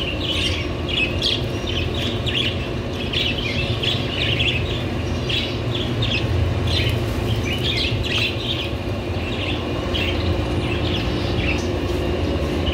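Caged red-eyed lovebirds at an old bird market by the Diyala bridge in Baghdad chirp in quick, high, scattered bursts over a steady low crowd and traffic rumble, with no talking.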